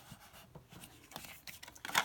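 A scoring tool scrapes along paper in short, close strokes for a paper craft embellishment, scratchy bursts that grow louder and sharper near the end.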